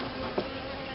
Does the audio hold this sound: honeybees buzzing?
yes